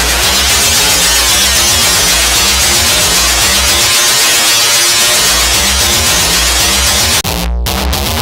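Synth played through a Line 6 Helix pitch echo delay effect, a dense, loud buzzing wash with repeating echoes and a brief dropout near the end, no voices.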